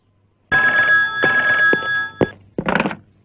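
A new cell phone rings loudly and close by, with two sustained electronic tones followed by a few choppy bursts of ringtone.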